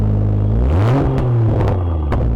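A BMW M340i sports car engine revs up with a rising growl, then drops back and revs again in short bursts, loud and close.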